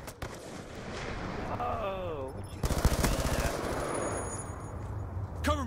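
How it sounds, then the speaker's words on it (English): Rapid automatic gunfire in the video game Black Ops 2, a dense burst of shots with game voices and effects over constant battle noise. "I just shot 10 bullets that quickly"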